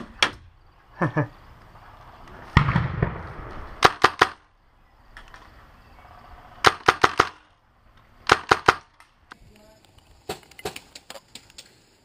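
Airsoft guns firing in a crossfire from the upper windows of a three-story building during a night milsim game, rapid bursts of sharp cracking shots in clusters, some near and some distant, with brief gaps between volleys.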